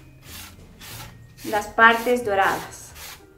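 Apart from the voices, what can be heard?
sanding painted wood with sandpaper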